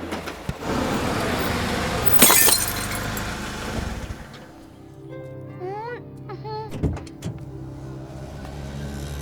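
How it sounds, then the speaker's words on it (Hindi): A car's headlight glass breaks with a sharp, bright crack amid street noise and voices, followed by further scattered knocks and clatter. "तुमने मेरी गाड़ी की लाइट तोड़ दी।"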